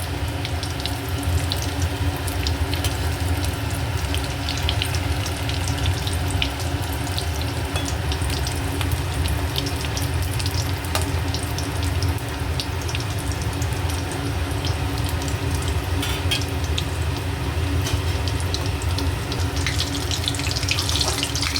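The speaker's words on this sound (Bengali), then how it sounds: "এইভাবে বড়াগুলো একটা একটা করে সব ভেজে নেবো" Fish egg fritters frying in oil, a dense, even sizzling hiss that runs on unbroken and fairly loud throughout, with no one speaking.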